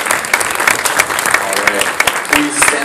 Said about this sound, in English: Please welcome them with another round of applause.